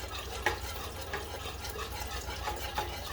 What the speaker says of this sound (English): So I'm whisking it at the same time.